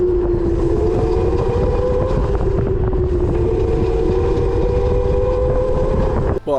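A converted Razor MX650 electric pit bike with air suspension, running on 48 volts, rides past with a steady whine over continuous wind and road rumble, close and loud throughout.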